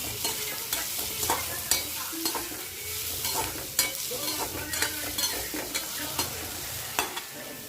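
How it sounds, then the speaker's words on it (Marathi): Cucumber curry frying in a pan is stirred with repeated scraping strokes over a steady sizzle, close and moderately loud with no speech. "तर माझं काकडी झालं आहे टाकून आता ह्याला मस्त असं फिरवून घ्यायचं"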